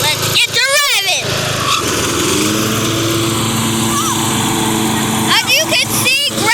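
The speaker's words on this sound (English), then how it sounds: "now let's get it cutting. Let's get to revving." A ten-year-old lawn mower engine runs loudly and steadily while cutting grass, with a sustained buzzing drone; someone talks over it at the start and end.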